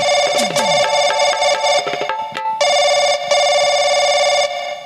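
Rapid electronic dialing tones give way to a loud, steady warbling telephone ring that repeats in long bursts.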